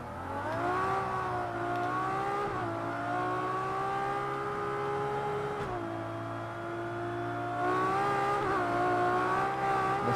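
Race car engine in the Project CARS 2 video game, a loud, steady multi-toned drone holding high revs, with brief dips and climbs at gear changes and no voices over it.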